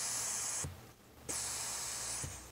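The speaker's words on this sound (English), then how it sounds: "I can also hear that the gas cap vent is working." Hiss from the gas cap vent on a Homelite LR4300 generator with a Robin Subaru EY28 engine, coming in two long, steady airy bursts separated by a short pause, fairly close and with no talking.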